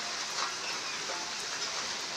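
A heavy downpour makes a constant broad rushing hiss, loud and unbroken from start to finish, with no talking.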